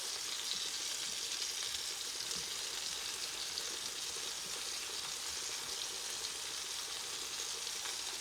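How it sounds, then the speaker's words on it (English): Onions sizzle and fry in a pan as a soft, continuous crackling hiss with no talking. "Let's drop in our onions,"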